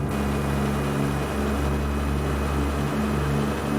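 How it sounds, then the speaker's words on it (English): A small biplane engine hums in American Truck Simulator, blended with a constant low truck-cab rumble. It holds steady throughout, with no speech. "Little biplane coming in over here."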